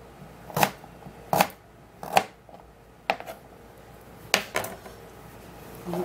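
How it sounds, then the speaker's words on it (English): Ginger cut into pieces on a cutting board makes about six sharp knife chops at irregular intervals, close and distinct against a quiet room. "Then for the ginger, then you would cut it in pieces also."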